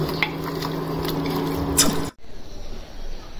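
Ginger garlic paste sautéing in a pan with cinnamon and bay leaf, a steady sizzle and faint stirring scrapes under a low hum, cutting off abruptly to quieter room noise near the end.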